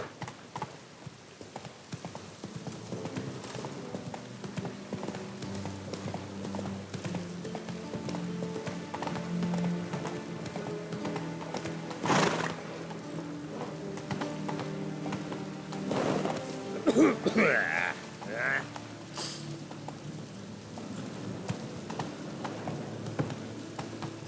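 Hoofbeats of Geralt's horse Roach galloping in The Witcher 3 video game, a steady rapid clip-clop running throughout under a swelling orchestral score, with a brief whinny near the end.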